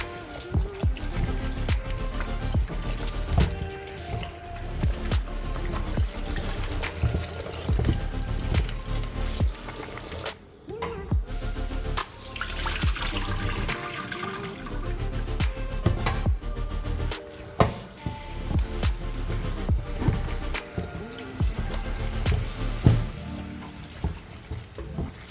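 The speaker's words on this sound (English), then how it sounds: "just to wash them off beneath the faucet" Cut breadfruit being washed under a running kitchen faucet, with a steady loud stream of water splashing continuously and close throughout.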